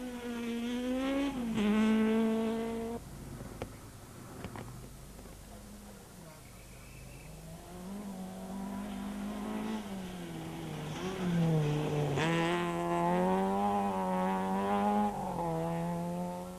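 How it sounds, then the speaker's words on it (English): Super 2000 rally cars on a South African rally stage, engines revving and rising through the gears as they pass, with a narrator talking over much of the run. "both Super 2000 cars were upstaged by the flying Fekken, who won the stage"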